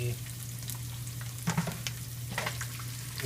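Chillies fry in hot oil, a soft, steady sizzle with a low hum beneath and a few sharper crackles and stirring scrapes.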